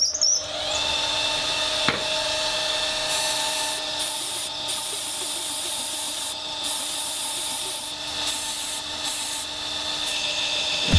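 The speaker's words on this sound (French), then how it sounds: "On continue à poncer, bon bah là de toute façon le façonnage il est pas mal, hein." A kitchen paring knife blade is ground on a belt sander with fine 150-grit belts, giving a steady loud abrasive hiss and whir throughout with a brief sharp scrape near the start, and only minimal talk.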